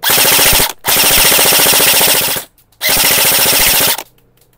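Automatic gunfire in a video game, heard as three long, loud, rapid bursts of rattling shots separated by short silences.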